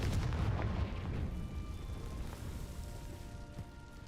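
Confringo spell explosions in Hogwarts Legacy, a heavy booming burst at the start followed by lingering low rumble and faint crackles, with a smaller thud near the end.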